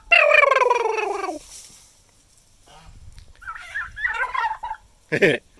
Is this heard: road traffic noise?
no